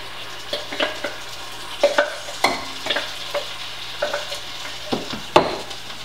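Tomato is added to garlic browning in a Lodge cast iron skillet, giving a steady close sizzle broken by irregular stirring scrapes and utensil clicks against the pan.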